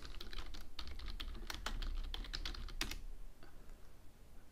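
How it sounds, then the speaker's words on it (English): Fast typing on a computer keyboard while entering a search keyword, a steady run of close, crisp key clicks with a few spaced final taps. "You can type your main keyword in."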